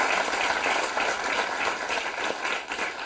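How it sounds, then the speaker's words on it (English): Sustained applause from an audience honoring student entrepreneurs at a college accelerator demo day, dense and steady throughout with no gaps. "one round of applause for all of our student entrepreneurs"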